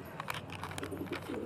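Soft, low pigeon coos murmur in a steady background, with a few faint clicks and rustles scattered through.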